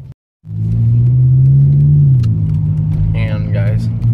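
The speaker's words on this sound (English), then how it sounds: "I'm driving." Steady low engine rumble from a car being driven, loud and close, swelling slightly as it picks up speed. A brief voice comes in near the end.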